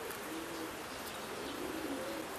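Purebred pigeons kept by a breeder in Samara coo softly in a loft, faint low repeated coos over a steady noisy background, with no one talking.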